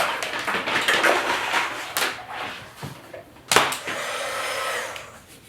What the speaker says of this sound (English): I'm going to use my heat gun to melt it on there